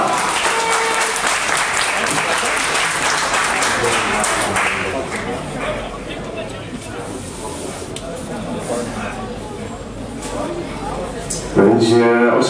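A large crowd applauds continuously and loudly at an American football game, with a commentator talking over the clapping and cheering.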